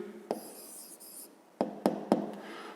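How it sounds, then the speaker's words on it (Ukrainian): Pen on paper as an answer to a fifth-grade math exercise is written down: a soft scratchy stroke, then a few sharp taps and short scrapes, close and quiet, with no talking. "Записуємо відповідь."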